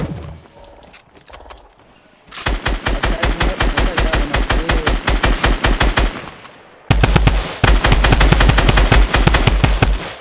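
Rapid automatic gunfire from a video game weapon in a battle-royale style match, loud sustained bursts of closely spaced shots, a brief pause, then another dense volley to the end.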